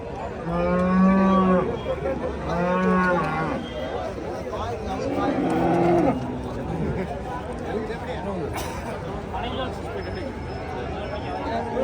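Cows low in two long, loud moos near the start and another around the middle at the Pollachi cattle market, with a crowd chattering and people talking throughout.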